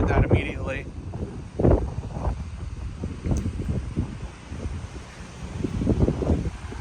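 Gusting hurricane wind buffets the microphone in heavy, uneven bursts of low rumble, with a few indistinct voice fragments partly buried underneath.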